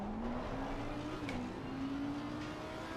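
Race car engine droning steadily in an Endurance World Cup racing game at Circuit of the Americas, pitch rising slowly and dipping once as it shifts, faint and continuous with another car briefly passing alongside.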